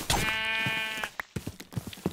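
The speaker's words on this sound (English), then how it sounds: "Only two sheep?" A sheep in the video game RLCraft gives one drawn-out, wavering bleat up close, followed by a few soft clicks and footsteps.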